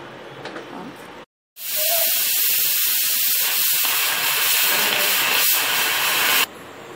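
Pressure cooker cooking soaked moong dal and rice for khichdi, with the gas turned off after four whistles, gives a loud, steady hiss of escaping steam that runs for several seconds after a brief pause, close and continuous.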